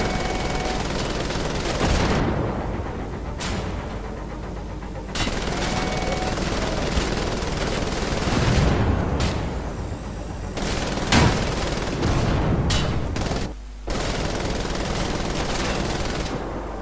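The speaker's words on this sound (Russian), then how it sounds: "у меня же пулемет остался" Sustained machine gun fire and heavy shooting in the video game Wolfenstein: The Old Blood, loud and continuous with dense bursts of rapid shots and booming impacts throughout, occasional short lulls.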